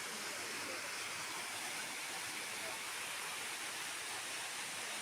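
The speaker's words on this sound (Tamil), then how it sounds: "அந்த நீர் துளிகள் எல்லாம் சேர்ந்து ஒரு நீர்வீழ்ச்சியாக உருவாகி ஊற்றுவதை நம்மால் இங்கே பார்க்க முடிகின்றது" Water pours down Muttal waterfall in a broad, steady roar of falling water, loud and continuous, with no break and a faint voice underneath.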